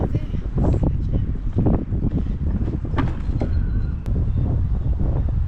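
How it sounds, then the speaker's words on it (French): Strong wind buffets the microphone in a continuous low roar while fishing from a shore, with a voice talking faintly over it outdoors. "Regardez bien ça, un coup de vent."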